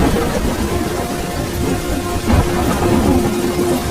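Steady heavy rainfall with a low rumble of thunder swelling midway, dense and loud, with no voices.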